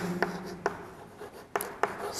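Chalk or marker writing on a board in a physics class, heard as four short sharp strokes that tap and scrape across a quiet room with a faint hum underneath.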